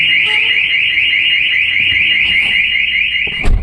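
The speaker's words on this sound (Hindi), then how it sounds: "सेम सिस्टम हुआ, फिर एक अलार्म हो रहा है।" Maruti Suzuki Baleno car alarm blaring at close range, a loud continuous warbling siren tone that holds steady and then cuts off near the end with a brief clunk.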